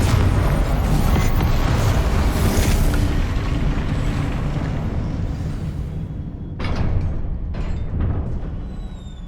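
The Confringo fire blast spell detonates in Hogwarts Legacy with a loud, sustained booming roar and rumbling debris, then the blast tails off into crackling bursts and settling noise.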